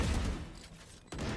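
Killjoy's swarm grenades detonate in a Valorant match as a dense burst of crackling pops and low rumbles. The burst cuts out briefly near the end, then resumes at full loudness.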